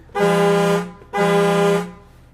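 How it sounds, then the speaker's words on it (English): Two long, loud blasts of a Newmar Ventana 4037 motorhome air horn, each about a second, with a short gap between them. "You also have, you can turn your air horn on."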